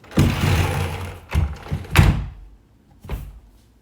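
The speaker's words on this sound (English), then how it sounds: "I'm just gonna close my door. And yes, it's a sliding door, listen." Indoor sliding door rolled shut in a few heavy bursts, a rumbling slide followed by a thudding close and a softer final knock, loud and near with no talk.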